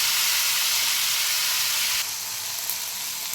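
Shallots, garlic and chopped tomatoes sizzling in a pan, a steady bright hiss throughout that drops slightly in level partway, with no talking.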